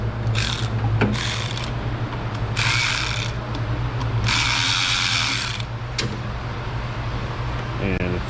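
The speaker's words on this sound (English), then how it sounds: "Let's loosen the clamp." A clamp being loosened with a ratcheting tool, heard as a steady run of close clicking bursts over a constant low mechanical hum, with occasional sharp knocks and a brief rapid rattle near the end.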